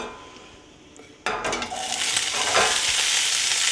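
Food searing in a hot pan for cream of asparagus soup, pieces browning to get color: a sudden loud sizzle bursts in after a quiet start and holds steady, with light stirring and utensil scrapes.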